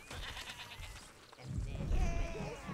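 Baby sheep in the video game Overlord bleating in a short wavering cry, followed by a louder burst of low thumping game noise.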